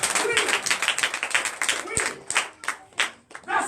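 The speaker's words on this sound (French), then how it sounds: "Donnez l'acclamation à Jésus." A church worship congregation claps and acclaims in rhythmic bursts, with voices mixed in throughout.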